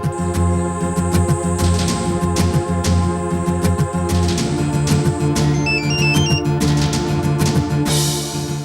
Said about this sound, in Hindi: बजी, घंटी बजी।